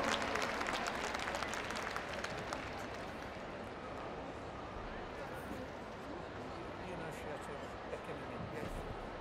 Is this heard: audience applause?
yes